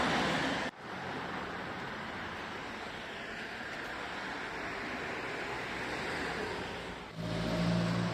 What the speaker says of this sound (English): And it's still quite sparsely distributed traffic.